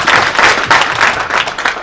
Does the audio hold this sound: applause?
yes